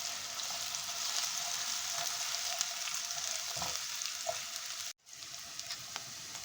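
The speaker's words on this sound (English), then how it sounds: "Oil 2 tablespoons, chopped onion half cup. Saute for 2 minutes on medium heat until changes color." Chopped onion sautés in two tablespoons of oil over medium heat, a continuous close frying sizzle with light stirring scrapes that cuts out briefly near the end before resuming.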